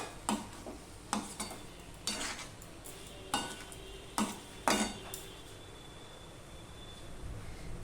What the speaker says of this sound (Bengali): সম্পূর্ণটা আমি ভালো করে মিশিয়ে নেব বন্ধুরা ডালটা যদি এইভাবে মশলার সাথে কষানো যায়